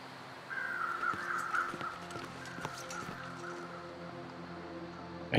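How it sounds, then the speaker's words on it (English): Crows caw in a snowy wilderness in the survival game The Long Dark, a few harsh calls at mid distance over a steady wind-like ambient drone, with no voices. "I hear crows."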